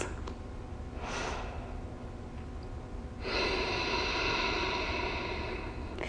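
Slow deep breathing during a calm yoga core session: a soft airy inhale, a pause, then a longer broad exhale, close and steady with no talking.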